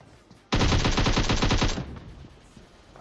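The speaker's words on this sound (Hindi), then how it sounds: "उससे पहले थोड़ी ऊजी की गोलियां बर्बाद कर दी" An UZI in PUBG Mobile fires one rapid burst of about a dozen sharp, loud shots over roughly a second and a half, then fades into a quiet tail.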